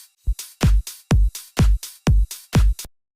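A future house drum loop programmed in Logic Pro X, with swung hi-hats: punchy kick hits alternate with bright hat and noise bursts in a steady, bouncing rhythm of about a dozen hits, loud and alone.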